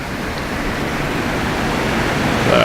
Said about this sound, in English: here is the waterfall, kind of looking up it. Here's the creek.